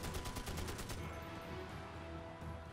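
Gunfire in the video game Magicka: a quick burst of rapid repeated shots for about a second, then a dense lingering roar of blasts and game noise.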